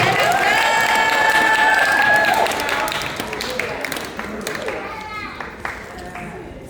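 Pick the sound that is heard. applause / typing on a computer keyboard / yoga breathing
applause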